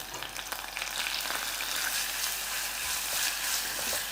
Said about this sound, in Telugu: ఈ తురుముని వెల్లుల్లిని కలిపి ఒక వన్ అండ్ హాఫ్ మినిట్ వేగనివ్వండి